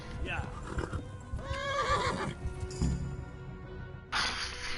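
A horse in Kingdom Come: Deliverance gives a loud, rising whinny over clip-clopping hooves, with the rider talking throughout the run.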